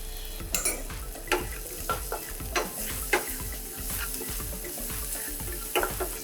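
Onion with salt sizzles in a frying pan while a spoon scrapes through it in repeated, fairly regular strokes, up close and without talk.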